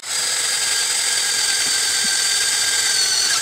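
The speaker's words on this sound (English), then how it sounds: "I'm just going to drill a hole through both of them." A power drill boring a hole through two stacked mini truck parts on a workbench, a steady, high-pitched whine running loud and unbroken the whole time, close up with no talk.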